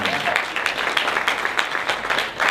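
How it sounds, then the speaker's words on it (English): Audience applause fills the room, steady and sustained clapping from a crowd honoring a grandfather, with no voices on top. "you're clapping"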